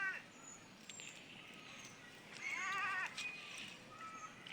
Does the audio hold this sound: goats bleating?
yes